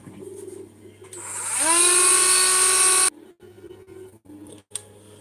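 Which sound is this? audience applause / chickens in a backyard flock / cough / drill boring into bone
drill boring into bone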